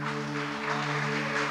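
A church congregation clapping in worship during a service, a continuous wash of many hands under a steady held keyboard chord, moderately loud and even throughout.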